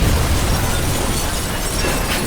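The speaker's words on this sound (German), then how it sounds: "Granate gefällig." A grenade detonates in the video game Watch Dogs, a loud, dense roar of blast noise that fills the whole moment and rumbles on steadily without a break.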